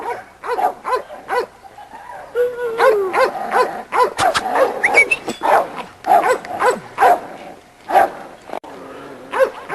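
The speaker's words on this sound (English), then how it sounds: "This is our little Sadie dog right here." Several dogs in a yard bark, yip and whimper in short repeated bursts close by, with voices of people talking mixed in throughout.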